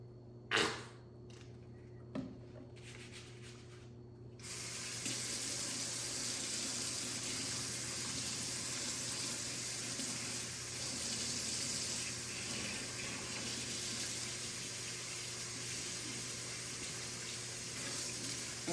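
Steady tap water runs into a sink while a wig is shampooed, starting after a few seconds of quiet with small handling knocks and continuing as a constant close broadband rush.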